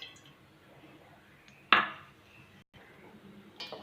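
A pan is set down on a stove before frying fish, one sharp metallic clank with a short ringing tail in a quiet kitchen, followed later by a faint clink.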